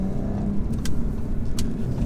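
A 2017 Audi S4 engine pulls under throttle on a dry B road, a steady close mechanical hum from inside the cabin with two brief sharp clicks riding over it, no talk.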